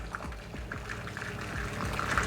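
Boiling water is poured steadily into a pan around filled flan molds, making a continuous close splashing and gurgling pour with small bubbling bursts and no speech.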